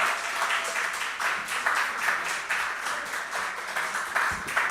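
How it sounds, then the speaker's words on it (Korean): Congregation applauding a pastor at a Korean church worship service, a steady wash of many hands clapping throughout at moderate level with no voices on top. "우리 좀 박수로 한번 우리 강 목사님 우리 한번 축복하겠습니다"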